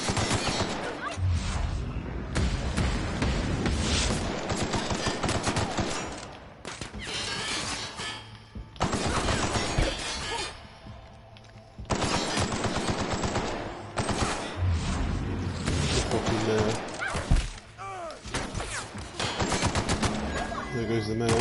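Gunfire in The Outer Worlds video game: loud, rapid bursts of automatic shots and single cracks repeat in dense clusters with short pauses between them, and someone talks occasionally underneath.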